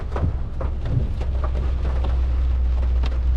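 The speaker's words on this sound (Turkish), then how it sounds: "Çiseliyor da değil aslında bayağı da yağmur var." Steady rain in Kosovo with a low constant rumble, scattered sharper patters and drips over a continuous wash of noise.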